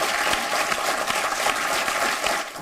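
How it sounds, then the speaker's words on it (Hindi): Audience applause at a Hindi poetry recital, a steady dense clapping that stays loud and even for the whole stretch with no voices over it. "इनका जोश, इनकी उस उमंग को एक बार तालियों से अभिनंदित कीजिए।"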